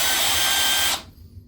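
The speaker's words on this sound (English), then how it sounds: "So go ahead and drill out the rivets." A power drill grinds loudly through rivets on a Maytag dryer, holding a steady whine for about a second before cutting off, leaving a low residual hum.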